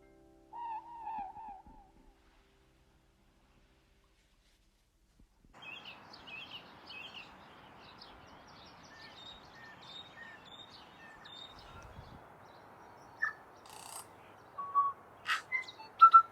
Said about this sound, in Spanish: solo acompañados por el canto lejano del ruru, el búho local que rompe suavemente el silencio de la noche neozelandesa